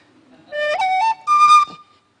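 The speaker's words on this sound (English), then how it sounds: "So this is a penny whistle, not a recorder." Penny whistle playing the opening of Fisher's hornpipe, a few bright, clear sustained notes in two short phrases, close and alone with no talk.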